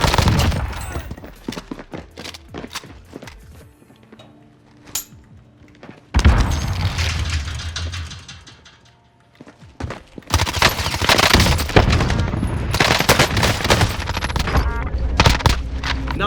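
Rapid MP5 submachine gun fire from Call of Duty Warzone, loud bursts and sustained automatic volleys with sharp cracks, a quieter stretch mid-way before dense firing resumes.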